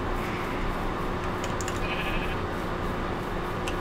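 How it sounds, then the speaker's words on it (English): Sheep bleat in the video game Minecraft, a few short calls around the middle set over steady background game noise. "Lots of sheep over here."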